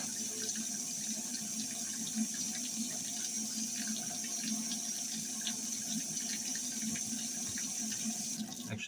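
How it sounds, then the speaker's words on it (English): Tap water runs steadily into a sink in a home kitchen, a continuous loud rushing splash that holds throughout with no voice over it. "I'm not sure how well you can even hear my voice over the sound of the water"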